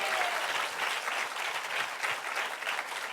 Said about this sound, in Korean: 예수님께 큰 박수 올려드립시다.